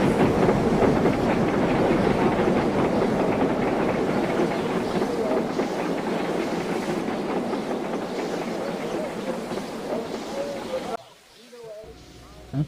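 A breakdown train running along the rails, a steady rumbling clatter with rhythmic clickety-clack of wheels that holds for about eleven seconds, then drops off sharply into near quiet.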